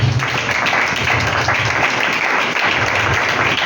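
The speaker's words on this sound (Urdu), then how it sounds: "اپنے لیے ذرا تالیاں بجائیں." A congregation at an Urdu/Hindi church gathering claps for itself, a loud, sustained wash of many hands over a low hum, without talking.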